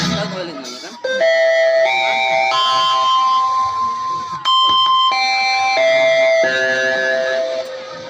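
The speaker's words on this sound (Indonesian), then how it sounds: "bel tanda masuk telah berbunyi" An electronic school entry bell plays a loud chiming melody of sustained stepped tones in two phrases, with a short gap between them and faint voices underneath.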